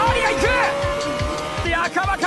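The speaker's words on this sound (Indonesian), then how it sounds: "Memanfaatkan jalur lurus dan tenaga mobil yang besar, Akabane dengan Ferrari-nya berhasil mendahului Mercedes milik Ohtani" In an anime street-racing scene, a race car engine roars past under a narrator's voice, with a steady high engine whine and rhythmic low pulses as a Ferrari overtakes a Mercedes on a straight.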